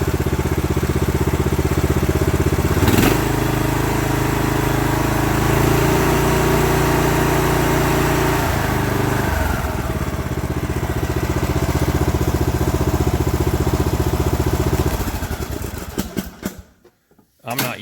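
A Briggs & Stratton engine fitted to a Cub Cadet LTX 1045 lawn tractor runs loud and close with a steady buzzing drone, revving slightly, then cutting off near the end as a person talks over it.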